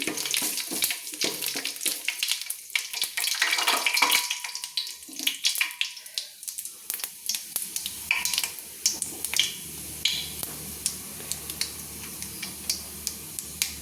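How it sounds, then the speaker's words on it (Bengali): Bay leaves, dried red chillies and cumin seeds fry in hot oil for a khichuri while a spatula stirs them, giving a close crackling sizzle with a rapid run of ticking scrapes. "আমি খুন্তি দিয়ে ভালো করে নেড়ে নিচ্ছি"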